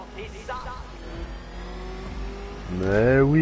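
An old car engine hums and rumbles under a speaking voice, then revs up hard near the end with a rising whine.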